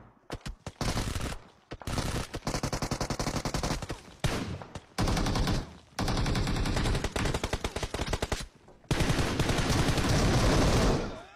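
Automatic gunfire rattles in a video game team deathmatch, loud rapid bursts of machine-gun shots separated by short silent gaps, up close and with no talk over it.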